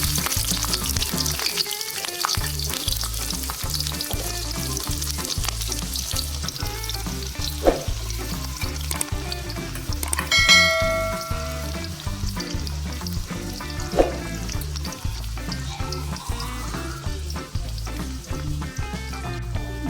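Green chillies and onions frying in hot oil, a loud, steady crackling sizzle that carries on throughout, with occasional stirring scrapes and clinks close by.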